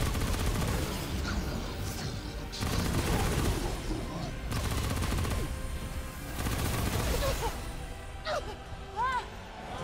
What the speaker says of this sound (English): fusion rifle!